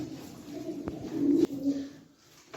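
Soft, low pigeon cooing repeats through the clip, with a couple of sharp knocks or clicks and faint outdoor background.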